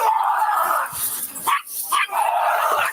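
A dog barks loudly and repeatedly nearby in a tense outdoor scuffle, the yaps coming in quick bursts with a brief lull in the middle.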